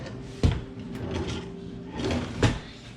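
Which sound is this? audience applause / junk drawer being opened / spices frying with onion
junk drawer being opened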